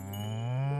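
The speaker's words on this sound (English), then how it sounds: "Oh, I've got a cow!" A single short, loud cow moo from the video game Spiritfarer, a clear sustained lowing call heard alone.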